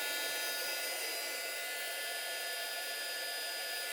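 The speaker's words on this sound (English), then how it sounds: "this heat gun gets really, really hot" An embossing heat gun runs at full blast, giving a steady, loud, close hiss of rushing air that stays unchanged from start to finish with no speech.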